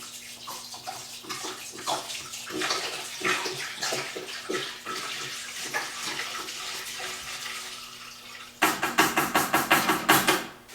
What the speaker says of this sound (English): then fill the rest up with water and toss some parts in.